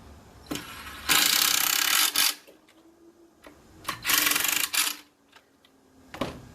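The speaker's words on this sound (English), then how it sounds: "So for this time, I'm going to back off my screws." A power drill backing screws out while a countertop is installed: three loud whirring bursts of a few seconds each, separated by quiet pauses with faint clicks.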